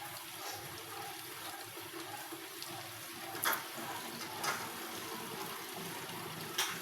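Steady water runs from a tap into a container for a household washing chore, a soft continuous splash at moderate distance, with a few brief clunks and no talking.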